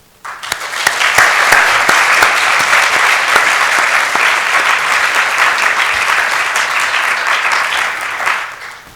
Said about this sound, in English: Can you join me in giving a very, very warm round of applause to Maggie Bowden, Tom Chatfield, Steve Fuller, Antony Painter, and Judy Wiseman.